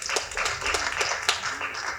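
An audience at a Tamil film event claps in scattered, fairly quiet applause, with irregular hand claps spread over a couple of seconds.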